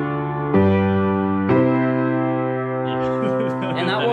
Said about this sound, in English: 2-5-1 is very popular.